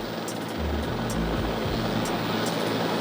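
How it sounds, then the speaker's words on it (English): A JetBlue airliner with its nose gear turned sideways comes in to land at LAX, a broad steady roar of engine and wind noise, loud and continuous with no voices. "And here it comes in now, this JetBlue flight 292 with that front nose gear pointed sideways."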